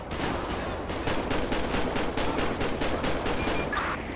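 Rapid automatic gunfire in GTA V with the LSPDFR police mod, a loud, continuous burst of evenly spaced shots rattling steadily for several seconds with no talk over it.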